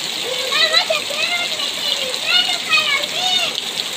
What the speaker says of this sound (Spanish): Pero está lloviendo resquisísimo.